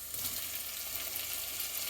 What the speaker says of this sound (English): We're going to let the onion cook